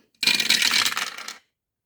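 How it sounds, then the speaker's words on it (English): Two dice are rolled together, giving a bright, dense rattle of clattering tumbles lasting about a second before stopping abruptly, close and loud with no talk. "I am just gonna roll 2 dice at the same time"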